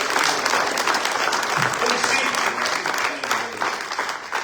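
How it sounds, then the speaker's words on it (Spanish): A church congregation breaks into sustained, dense applause at a Spanish-language service, a steady wash of many hands clapping with a voice carrying over it. "Un aplauso más fuerte para la palabra."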